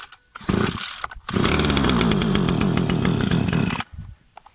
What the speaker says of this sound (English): First time I fired this up, choke on the top.